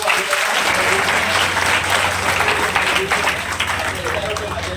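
Loud, dense applause from an audience at a free coaching centre event welcomes the chief guest, many hands clapping steadily and close by, with a faint murmur of voices beneath.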